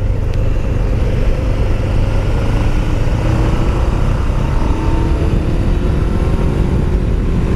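A Ninja 500 motorcycle engine drones loudly and steadily as the bike accelerates up through the gears, with rising engine pitch and constant wind rush, close and without talk.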